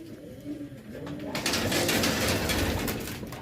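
Pigeons coo inside a racing pigeon loft, their soft rolling calls close and clear, with a broad rustle of wings and movement building partway through.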